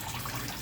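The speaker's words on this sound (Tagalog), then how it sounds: "bagsak ng water pump sa dulo, ayun yung tubig." Water pouring from a water pump outlet into a rooftop tilapia fishpond, a steady close splashing rush that holds constant through the short moment.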